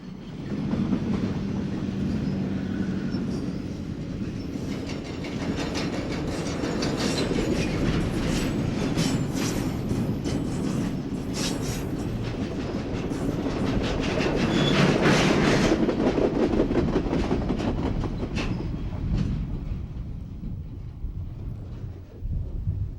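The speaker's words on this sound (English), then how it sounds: "but this is still an impressive train" Conrail freight train passing at close range: a long, steady rumble of rolling cars with rhythmic clickety-clack of wheels over rail joints and some wheel squeal, swelling slightly midway.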